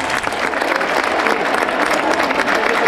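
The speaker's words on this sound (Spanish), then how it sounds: "la gente aplaude" A large crowd applauds in a football stadium after the Tolima versus Nacional match, a loud, sustained wash of clapping with a faint murmur of voices underneath.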